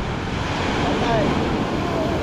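Big ocean waves surging and rushing in a continuous loud wash, close by and roughened by wind buffeting the microphone.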